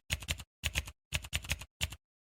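A folder name is typed on a computer keyboard in four quick bursts of crisp, close keystrokes separated by short silent pauses.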